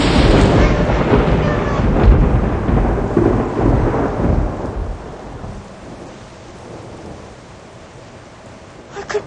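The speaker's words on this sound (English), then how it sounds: "And lightning. And thunder." Loud thunder rumbles and rolls through a rainstorm, strongest in the first half and slowly fading, with steady rain hiss beneath and a sharper crack near the end.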